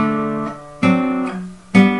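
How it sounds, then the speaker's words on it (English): Blues guitar in C picked with thumb and two fingers, a few plucked chord notes ringing out in a simple rhythm, close and clear with no voice. "Now we can pick it very simply, just using a thumb and two fingers in this way."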